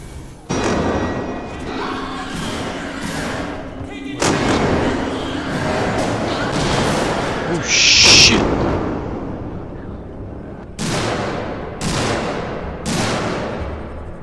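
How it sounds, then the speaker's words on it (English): Heavy gunshots in the video game Alien: Isolation boom in bursts, several sharp blasts separated by pauses, loud and close with rumbling tails. "Gunshots don't work on that thing."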